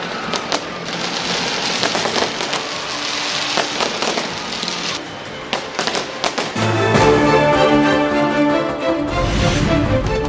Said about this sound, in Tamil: பட்டாசுகள் வெடித்து கொண்டாட்டத்துடன் வரவேற்ற மக்கள்.